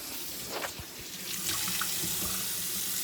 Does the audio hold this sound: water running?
yes